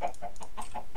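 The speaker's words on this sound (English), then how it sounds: "I need to put more chickens in there" Chickens cluck in the game Minecraft, five or six short, close clucks in quick regular succession, loud and alone.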